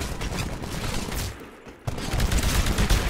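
Small arms gunfire in the Titanfall video game, a dense sustained fusillade of rapid shots that briefly drops away mid-clip before resuming loud and continuous.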